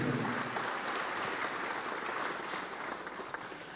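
An audience at a breast cancer awareness ceremony for Pink October applauds the First Lady. The dense clapping is steady and fairly full, easing slightly toward the end of a short burst.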